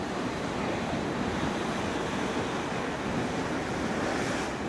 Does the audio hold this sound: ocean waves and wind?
yes